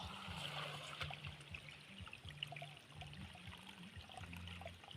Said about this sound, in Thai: เป็นน้ำไหล